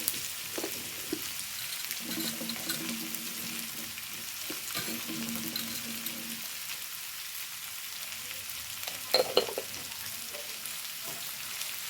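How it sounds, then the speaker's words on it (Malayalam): Onions fry in coconut oil with a soft, continuous sizzle, broken by occasional stirring scrapes and a brief clatter near the end; no talking. "ഉള്ളി ഒന്ന് വഴന്ന് വരട്ടെ നല്ലോണം ഈ വെളിച്ചെണ്ണ കിടന്നിട്ട് ഒന്ന് നല്ലോണം വഴന്ന് വരണം"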